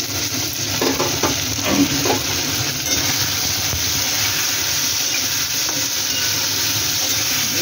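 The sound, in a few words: potatoes frying and being stirred in pan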